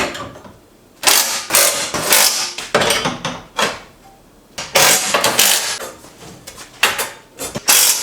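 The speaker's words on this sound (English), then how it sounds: "Now we're gonna bolt it together." A front cage kit for a 240SX is bolted together: irregular metallic clanks, taps and ratcheting rattles come in bursts with short pauses, close by and fairly loud, with no talking.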